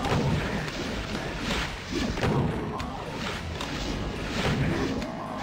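Gunfire in the video game Voxel Doom 2, dense rapid shots and booming impacts layered continuously over game noise, loud and unbroken throughout.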